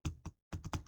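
Short clacking taps in several separate bursts, near and distinct, from keys struck on a computer keyboard while entering a word into a spreadsheet cell; no voices.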